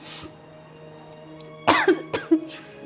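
A short burst of several harsh coughs close by, a quick cluster of three or four, after a quiet stretch of room hum.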